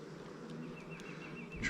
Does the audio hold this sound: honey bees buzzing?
yes